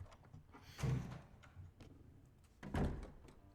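A door opening in the video game Resident Evil Remake, heard as two faint, low, muffled thuds about two seconds apart over a quiet background.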